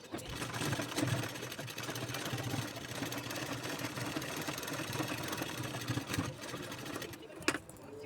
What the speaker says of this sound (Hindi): और फिर एक सिलाई लगा लेंगे।